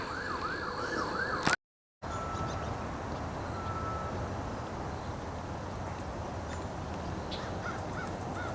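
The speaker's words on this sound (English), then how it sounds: "because apparently now it's going to be sirens time" Emergency vehicle siren wailing faint and distant near the Empire State Trail, briefly cutting out, then an outdoor ambience with scattered crow caws and light background noise.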